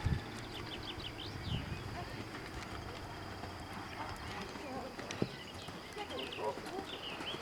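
Horse galloping in a riding session, a faint, fairly steady rhythmic beat of hooves heard at a distance over outdoor background noise with birds.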